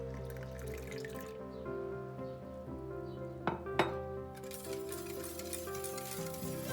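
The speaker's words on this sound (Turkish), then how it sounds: "Evet, sütümüzün kalanını da ilave ediyoruz." Milk pours into a pot while tiramisu cream is being made. The trickle of liquid is soft and fairly quiet over a steady kitchen hum, with a couple of brief clinks partway through.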